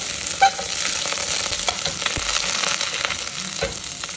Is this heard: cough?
no